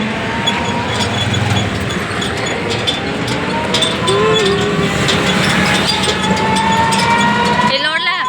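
A road vehicle rattles and shakes over a rough ride, a steady rumbling engine and body noise throughout with a brief squeal near the end, while people talk over it.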